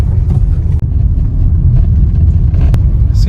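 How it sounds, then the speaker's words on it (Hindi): A Toyota Hyryder AWD pulling away in first gear, its steady low engine and road rumble filling the cabin at a loud, even level with no gaps. "स्टार्टिंग में काफ़ी अच्छा पिकअप हम लोग को मिल रहा है फर्स्ट गियर में"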